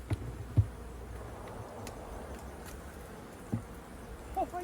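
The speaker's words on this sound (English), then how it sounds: "A lot of bees." Honey bees buzz in a hive during winter preparation, a soft continuous hum at moderate distance with a few faint knocks and bumps over it.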